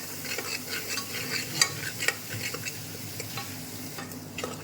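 Ground masala paste sizzling in hot oil while being stirred for a chicken curry, soft continuous frying with repeated scraping strokes and light clinks of a spoon against the pan.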